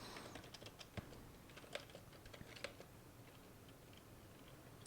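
Soft, fairly quiet keystrokes on a computer keyboard tap in an irregular rhythm, close by, with a few sharper clicks standing out and no talking.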